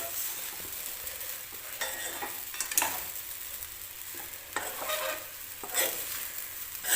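Sabudana khichdi of soaked sago pearls with crushed peanuts being mixed in a hot pan, a continuous gentle sizzle broken by scraping strokes of a spoon every second or two, close and quiet, no talking.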